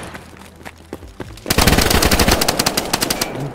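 Gunfire in the video game DayZ at an industrial area: after a quieter stretch, a loud burst of rapid automatic shots erupts and keeps rattling in a dense, continuous volley to the end, with no talk over it.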